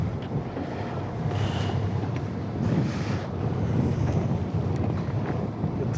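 Wind and ocean swell on a fishing boat, with continuous low buffeting wind noise against the microphone and a rolling, rumbling wash of water that stays steady and close.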